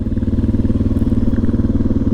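A Kawasaki KLX300 dual sport motorcycle with a 292cc liquid-cooled single engine runs steadily nearby, a loud, even low throb with a fast regular pulse and no voices.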